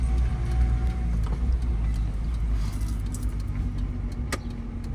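A car creeps through a narrow street, its steady low engine rumble and road noise continuous and close, with small mechanical clicks and rattles over the top and no talk.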